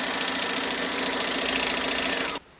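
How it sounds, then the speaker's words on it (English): A sewing machine stitches the last thick edge of a zippered project bag, a close, steady rapid whirring and clatter of the needle that stops abruptly near the end. "And now I can sew this last edge. Get that thickness under the machine."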